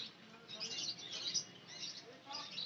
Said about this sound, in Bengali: টেম করা বদ্রি এটা